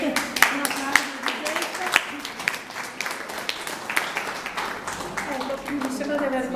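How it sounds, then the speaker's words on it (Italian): A crowd at an outdoor Italian event of dance and poetry devoted to trees claps for the poet Gigetta, with a continuous patter of applause mixed with voices talking underneath. "Un applauso"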